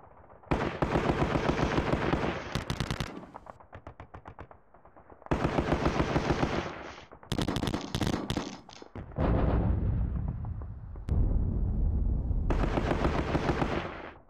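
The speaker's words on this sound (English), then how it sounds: "Brits are peppering me with some artillery fire." Artillery fire in the John Tiller wargame Sealion '40 comes as repeated loud bursts of rapid crackling detonations, separated by short quieter gaps, with heavier low booms partway through.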